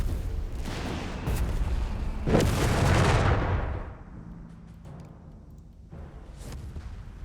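Gunfire and booming battle noise from a Vickers machine gun crew in the strategy game Company of Heroes 3, a loud sustained burst of shots building to a heavy peak, then quieter scattered distant reports.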